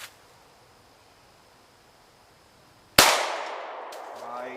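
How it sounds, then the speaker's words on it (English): A single loud gunshot from a Kel-Tec Sub-2000 carbine chambered for Glock magazines cracks out at steel spinner targets, a sharp broadband blast with a ringing decay after a quiet stretch of outdoor background. "Now, let's take let's take a couple shots at those spinning black targets."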